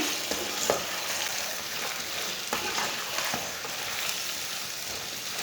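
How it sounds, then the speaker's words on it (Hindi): Taro root pieces frying with browned onions in a pan for arbi salan: a continuous bright sizzle broken by occasional scraping and stirring clatter, close and unaccompanied by voices. "अरबी डाल के इसे 5 मिनट के लिए भून लेंगे।"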